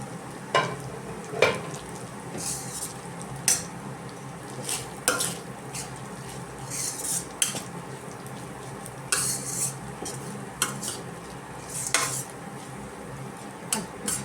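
Rice and egg being stirred in a pan on the stove, with a soft ongoing sizzle and repeated sharp scrapes and clinks of a utensil against the pan, fairly quiet and with no talking.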